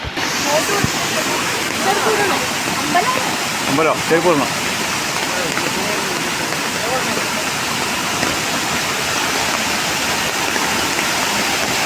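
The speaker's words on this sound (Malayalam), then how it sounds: "വെള്ളച്ചാട്ടത്തിൻ്റെ സൗണ്ട് കേൾക്കാൻ തുടങ്ങിയിട്ടുണ്ട്" Bheemeshwara waterfall beside a temple gives a constant, broad roaring hiss that fills the whole clip without pause. A person speaks briefly over the rushing water.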